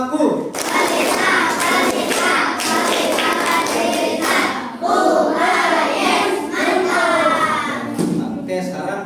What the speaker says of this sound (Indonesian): Bapak mau dengar lagi tepuk pelitanya sekali lagi